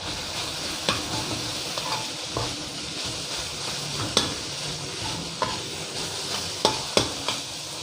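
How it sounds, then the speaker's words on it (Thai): Minced pork is stirred into curry paste in a hot pan, a steady close sizzle broken by repeated scraping knocks from the spatula. "พริกแกงหอมดีแล้วก็ใส่หมูสับครับ"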